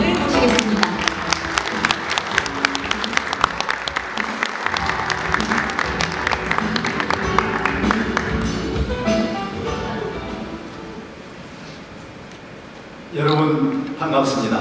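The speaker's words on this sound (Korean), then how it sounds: "큰 박수 함께 이사장님을 모시겠습니다." An audience at an award ceremony applauds as the chairman is welcomed to the stage, a steady, dense clapping that fades toward the end, followed by a burst of amplified speech.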